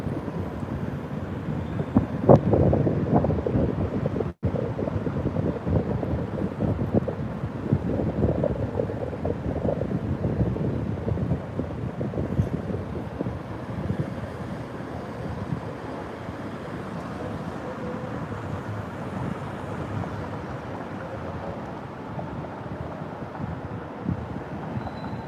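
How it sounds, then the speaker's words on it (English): Train arriving along Michigan Avenue in Chicago, a continuous low rumble and rush that stays steady for the whole stretch. Wind buffets the microphone over it, and one sharp knock cuts through early on. "Oh, here's the train."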